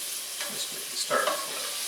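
Shrimp sizzle and fry in a hot pan, with a brief louder burst of crackling partway through as the pieces are stirred or flipped, steady close frying throughout.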